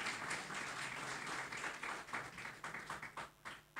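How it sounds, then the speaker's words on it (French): An audience at the Groupe Renouveau 2025 television season launch event applauds steadily at moderate distance, the dense clapping thinning into scattered individual claps near the end. "je voudrais, s'il vous plaît, que vous acclamiez l'ensemble des travailleurs"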